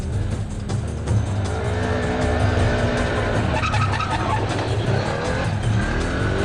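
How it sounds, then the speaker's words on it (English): Fast side-by-side off-road racing vehicles run a desert race, engines roaring and revving continuously nearby with a brief squeal of tyres in the corners. "These little side-by-sides are very fast, but perhaps not the most stable in the corners."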